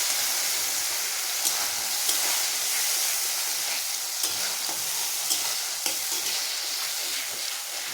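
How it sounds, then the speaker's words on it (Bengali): Ginger-garlic paste frying in hot oil with cardamom and cinnamon, giving a steady close sizzle and hiss with a few soft stirring scrapes throughout, no voices. "আদা রসুন বাটাটা আমি এর মধ্যে এবার দিয়ে দেব। এবার একটু এটা ভেজা ভাজা করে নেব।"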